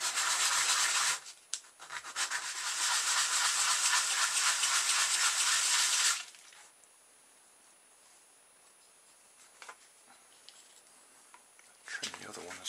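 Sandpaper rubs against the edge of a plastic pop bottle top in a steady, close, hissing scrape lasting several seconds, then stops, leaving quiet handling noises and a brief final rub.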